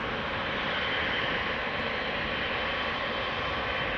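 A Qatar Airways jet departs Amsterdam Schiphol, its engines producing a loud, steady broadband roar that holds constant throughout with no voices.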